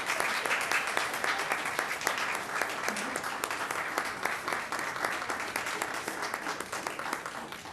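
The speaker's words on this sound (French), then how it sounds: "Allez, on peut les applaudir." People at a municipal council meeting applaud two coaches, a sustained round of many hands clapping in a hall, fairly steady and moderately loud, tapering slightly at the end.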